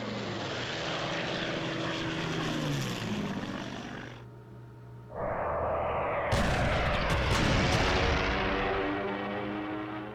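A propeller aircraft roars overhead in a World War II video game, followed by a heavy blast from 88 mm anti-aircraft guns firing at it, loud and close, with the engine drone continuing afterward.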